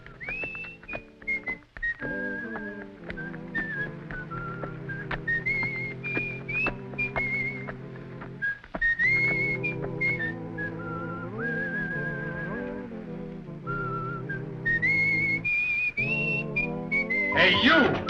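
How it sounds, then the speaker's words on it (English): A person whistles a lilting melody, clear and close, with sustained notes rising and falling over faint background music. "You the guy that was whistling?"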